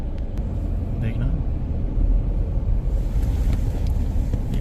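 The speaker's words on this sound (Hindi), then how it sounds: "ये गाड़ी जा रही है।" A car rolling slowly through a FASTag toll plaza lane without stopping, a low steady engine and tyre rumble close by, with people talking over it.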